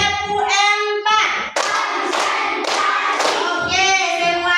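A class of pupils in an Islamic religious education lesson claps in unison on a teacher's count, with several loud, close bursts of rhythmic hand claps. Chanted voices come before and after the claps.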